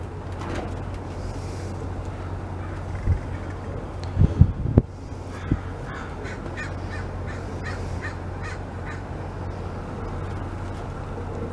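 Crows caw in a short cluster of harsh calls near the middle, heard over steady low background rumble during a northern flicker rescue outdoors.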